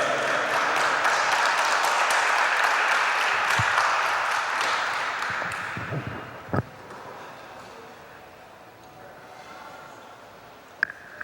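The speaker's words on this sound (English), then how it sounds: "Y'all give him a hand clap." Audience at a Juneteenth celebration applauds as a pastor is called to the stage: dense, loud hand clapping for about six seconds that thins out and fades, followed by a few scattered claps.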